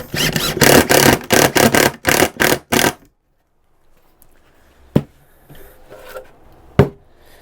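A power screwdriver drives screws into pallet wood boards for a storage box, several short whirring bursts in quick succession up close, then a near-silent pause broken by two sharp knocks of wood.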